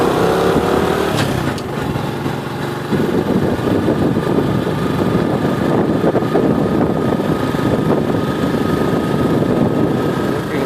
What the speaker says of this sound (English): And here's the motorcycle. So we're just going to take a little drive.